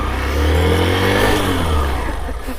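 A motorbike engine revs hard and close as the rider tries to drive over a large homemade solar balloon, a sustained loud roar that tapers off near the end.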